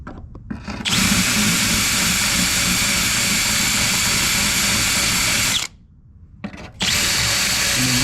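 A loud, steady power tool whine grinding fiberglass pickup truck step side panels runs for several seconds, cuts out briefly, then starts up again at full strength.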